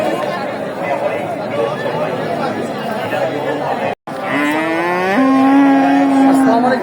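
Cattle low and moo loudly nearby over a busy hum of crowd chatter at a livestock market in Bogura, Bangladesh, one long drawn-out moo rising clearly near the end.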